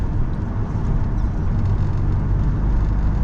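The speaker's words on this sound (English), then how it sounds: "Oh, cops or cars behind me." Cars driving along a street in mid Laredo, Texas, a steady low engine and road rumble close behind, continuous and fairly loud with no talk over it.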